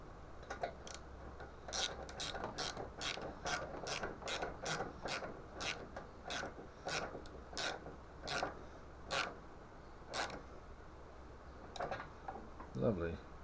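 A ratchet clicks in quick runs while tightening a nylock nut on the solenoid of a Lawn Flite ride-on mower, close and crisp, with pauses between bursts and faint talk near the end.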